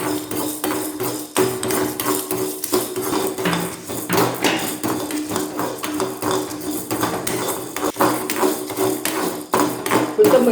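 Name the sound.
dry roasting urad dal in a pan without oil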